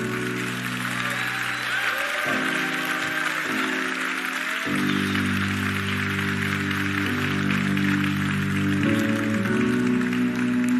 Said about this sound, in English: please give one more round of applause to the amazing team back there